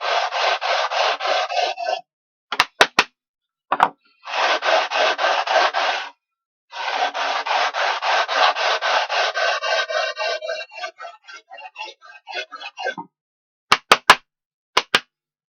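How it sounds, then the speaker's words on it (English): Sanding block rubbing back and forth along a wooden board's edge on an improvised shooting board at a workbench, in long steady rasping bursts with short pauses and a few sharp knocks, close and fairly loud. "And then we sand it with the base onto the workbench."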